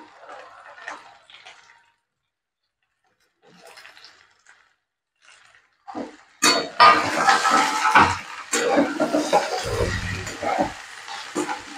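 Beans, cauliflower and peas tipped into a pan of frying potato and carrot, with quiet scattered clatter at first, then a loud, sustained sizzle and stirring that runs on to the end.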